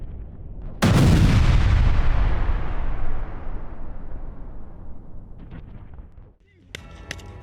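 Heavy Israeli bombardment on Gaza: one loud, deep blast lands early and rolls out in a long, slowly fading rumble, followed by a quieter crackle and a faint burst near the end.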